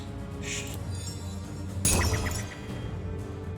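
A Shatter spell cast in the Master of Magic remake, a sudden glassy breaking burst with a bright crackling tail rising over a steady game background, about midway through.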